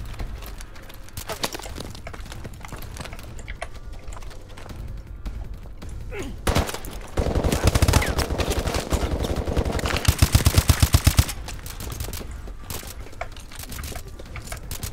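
Rapid automatic gunfire in Call of Duty: Advanced Warfare, loud bursts of fast repeating shots with a dense volley in the middle, amid game ambience.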